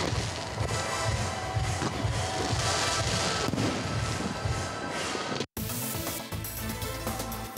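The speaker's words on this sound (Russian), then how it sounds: "Все с нетерпением ждали грандиозного финала – праздничного салюта." Festive fireworks salute at a city celebration finale in Odintsovo, a dense, continuous barrage of loud bangs and crackles filling the air, with a brief cut near the end before the booming resumes.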